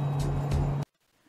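The ventilation system aboard the International Space Station, heard up close at a return grid, gives a steady loud hum with a low tonal drone, then cuts off abruptly to near silence.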